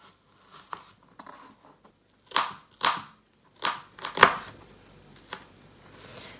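A knife finely chopping garlic on a cutting board, a handful of sharp, close, irregular taps and cuts separated by short pauses, with no talking.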